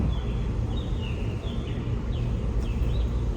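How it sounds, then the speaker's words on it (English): Birds sing faintly outdoors, with a few thin whistled phrases repeating over a loud, steady low rumble of background noise. "Birds sound so nice."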